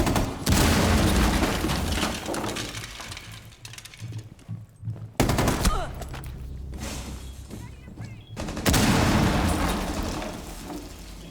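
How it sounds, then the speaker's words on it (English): A breaching charge detonates in Rainbow Six Siege during a high-school esports invitational match: a loud blast with debris and a burst of noise, then a second heavy boom, set among continuous gameplay rumble and effects. "Breaching charge deployed"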